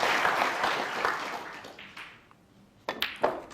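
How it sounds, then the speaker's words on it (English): Audience applause at a snooker World Championship match for Ding Junhui's 132 break against Liang Wenbo, a burst of clapping that fades away, then a few scattered louder claps. "Even Liang Wenbo was applauding that"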